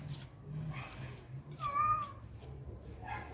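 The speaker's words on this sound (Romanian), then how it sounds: "Hai să-i dăm și la pisica aia un pic, că una într-una stă pe aici" A cat meows once, close and clear, amid the background bustle of a traditional pig slaughter in Maramureș, with faint rustling and voices around it.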